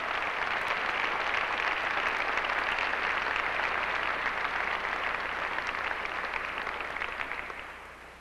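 Audience at a 2003 Henry Sibley graduation ceremony standing and applauding, a dense, sustained roar of many hands clapping steadily throughout before tapering off at the end.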